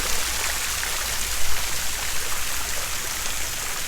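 Steady splashing water from the bronze Fountain of Harmony in Lecce, a broadband continuous rush with slight surges, fairly close and heard alone without talk.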